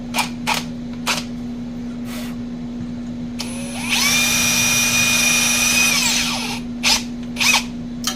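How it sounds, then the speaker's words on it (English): An electric drill with a tiny bit whirs for a couple of seconds after several short clicks and trigger taps, over a constant low electrical hum. "Apparently this drill does not like this tiny bit."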